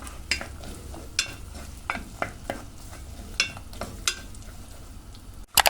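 Grated garlic and carrot sauté in a pan for chicken vermicelli soup, a faint steady sizzle broken by a handful of sharp spoon-scrape strokes at irregular intervals.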